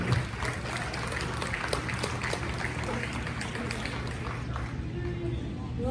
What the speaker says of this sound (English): nice big round of applause for Lucy Sharp